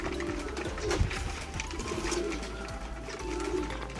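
Racing pigeons arriving from a training toss, soft repeated cooing close by over a noisy outdoor background, with a bump or flutter near the start and no speech.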